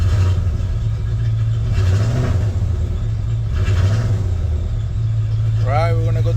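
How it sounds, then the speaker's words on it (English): Engine of a second-generation Dodge Ram 1500 with a 5.9 or 5.2 V8, idling steadily with a deep low rumble that swells briefly twice as the gas pedal is pressed, while a person speaks over it near the truck. "I'm gonna press the accelerator a couple of times"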